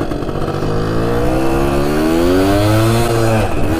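Suzuki RV90 motorcycle, long abandoned, running in fourth gear: loud, close buzzing two-wheeler engine whose pitch climbs steadily as it accelerates, then dips slightly near the end.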